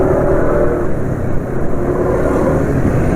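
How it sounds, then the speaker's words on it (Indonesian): Car engine after an oil change to Lubrigold 5W40 synthetic oil, a close steady low engine drone with slight fluctuations as the revs settle, no talking. "ini RPM mesin cepat turun ya"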